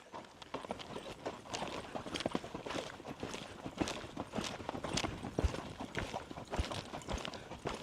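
A horse lopes on a right lead, its hooves thudding in a steady rolling three-beat rhythm on the ground at moderate distance and fairly quiet, with no voices over it.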